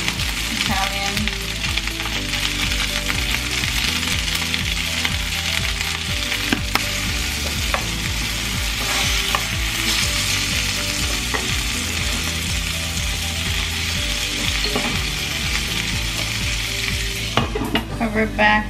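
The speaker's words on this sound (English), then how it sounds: "So look at her sizzling" Honey garlic chicken seasoned with salt and Italian herbs sizzles loudly and steadily in a pan, a dense continuous crackle with occasional stirring scrapes and faint background music underneath.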